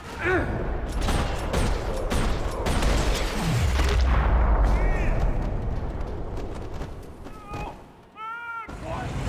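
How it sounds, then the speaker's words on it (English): Rapid bursts of gunfire crackle loudly in a parking lot in Max Payne 3, a dense, chaotic mix, with scattered synthetic whoops and tones from the game soundtrack as the firing trails off. "Another parking lot rattling with gunfire."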